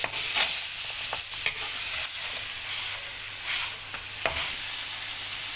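Mutton and ingredients are stirred in a pot over soft, constant sizzling, with several distinct scraping strokes heard up close.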